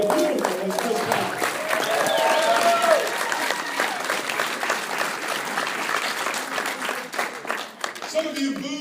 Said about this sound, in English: Put your hands together for the lovely,